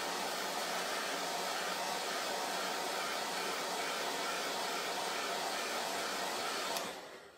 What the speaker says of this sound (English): quick blow dry